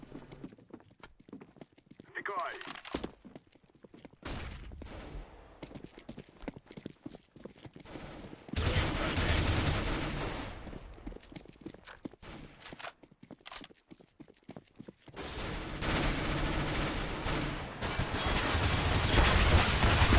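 Rapid bursts of spraying gunfire in Counter-Strike: Global Offensive, as a player strafes left and right, come in two long loud stretches separated by quieter clicking footsteps and clatter.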